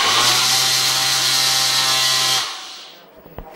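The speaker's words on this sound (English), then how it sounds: "We'll get our sander going." Orbital sander running off an off-grid generator setup: a steady, loud, close whirring drone with a low hum, then it winds down and stops, leaving faint clicks.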